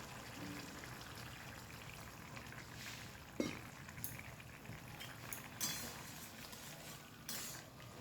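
Curry sauce simmers and bubbles in a pan on the stove, a quiet, steady hiss of boiling with scattered small pops and an occasional clink of a utensil against the pan.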